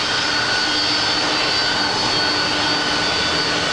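A jet airliner landing on runway 25 right at Los Angeles International Airport, a loud, steady, broadband engine roar that holds unchanged throughout without any voices.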